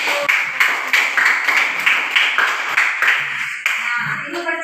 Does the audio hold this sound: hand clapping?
yes